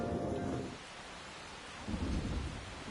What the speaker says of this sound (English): love the sound of rain